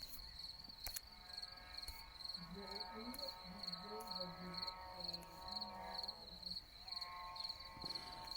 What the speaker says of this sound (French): Les grillons chantent bien, magnifique.